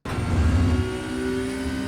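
In the iRacing sim, a Porsche 911 Cup (992) GT3 engine drones steadily at Monza at full throttle out of a corner, a sustained mid-pitched engine note with a faint whine and no voices.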